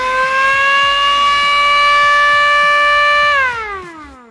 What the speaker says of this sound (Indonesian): Kalau teman-teman rasa sirine itu kurang panjang, tinggal dinaikkan saja.